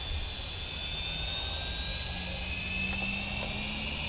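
Small drone motors spin up under throttle, giving a steady, loud, high whine that holds without pause.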